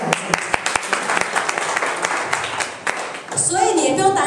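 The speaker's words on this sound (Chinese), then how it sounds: "再次给 Mio 一个热烈的掌声" An audience at a skincare presentation claps in scattered, sharp bursts for a few seconds before a voice starts speaking over the fading applause.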